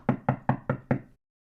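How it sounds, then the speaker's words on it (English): Five quick, evenly spaced knocks on a door, firm and close, fall in a steady rhythm over about a second, then give way to silence. "I rode my bike to his house and knocked on the door."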